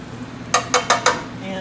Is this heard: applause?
no